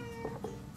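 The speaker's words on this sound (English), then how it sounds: "don't mind my cat in the background" Two faint, brief cat meows sound in the background of a quiet indoor room over a steady hum.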